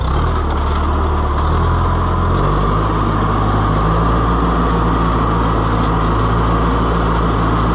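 The engine of a Ferguson 30 tractor, recently fitted with a repaired governor, runs at a steady loud idle with a deep rumble, and there is a slight drop in pitch partway through.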